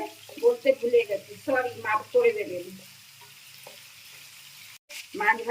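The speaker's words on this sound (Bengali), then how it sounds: "ভাজা হয়ে গেছে" Prawns frying in a pan give a steady sizzle under a person talking for the first half, then the frying continues alone, faint and even.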